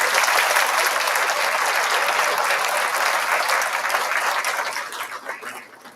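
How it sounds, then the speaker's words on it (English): Loud, dense applause from an audience at a high school scholarship night, a sustained roar of many clapping hands that stays strong before tapering off near the end. "them a big round of applause."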